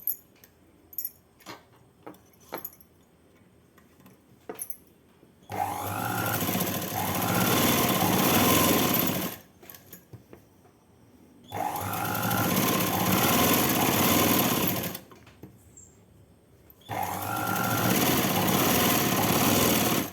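A sewing machine runs in three sustained bursts, each lasting a few seconds, as it stitches a folded hem on a night dress. Scattered light clicks and handling noises fill the short pauses between runs.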